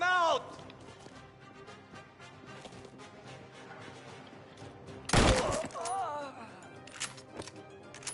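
A single loud shotgun blast goes off in Mafia: The Old Country, a sharp close burst with a short crashing tail, set amid fairly constant talk and quieter game sounds.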